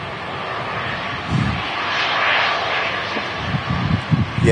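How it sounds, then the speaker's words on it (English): An EasyJet airliner touches down on the runway at Manchester Airport, heard as a steady, broad engine and air roar that swells slightly, with a few low thumps toward the end. "Silky touchdown from this EasyJet."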